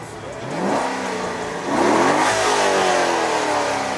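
A car engine fitted with a high-horsepower package revs up close by, rising in pitch, dipping, then climbing again into a sustained loud roar with no talk over it.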